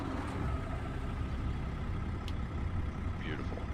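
An International LoneStar truck engine in American Truck Simulator rumbles low and steady, close and even-toned throughout, with a faint high hiss near the end.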